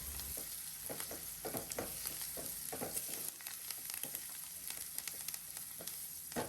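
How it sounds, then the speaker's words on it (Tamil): Onions sauté in a pan with salt and turmeric, giving a quiet, steady sizzle with faint stirring scrapes and no talking. "கூடவே கொஞ்சமாக மஞ்சள் தூளும் சேர்த்துட்டு ஃபியூ மினிட்ஸ்க்கு சாட்டே பண்ணுங்கள்"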